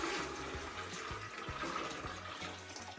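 Water is tipped onto grain while brewing a mocha stout, giving a steady, fairly faint pouring and splashing wash with soft low gurgles and no voices.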